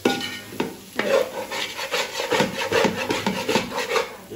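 A wooden spoon scrapes and stirs brown egg curry with onion greens and fresh coriander in a pan on a switched-off stove, making repeated rhythmic rubbing strokes close up, with no one talking.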